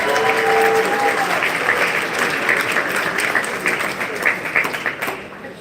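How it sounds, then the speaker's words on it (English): An audience at a school-year event applauds loudly and steadily, the clapping fading toward the end with a voice faintly underneath. "Can you please give them a round of applause?"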